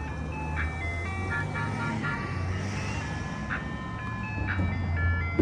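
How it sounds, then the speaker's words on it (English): An ice cream truck on a Los Angeles street near Interstate 5 plays its tinkling jingle melody continuously over a low steady engine rumble and road noise, moderately loud throughout. "wholesome ice cream truck"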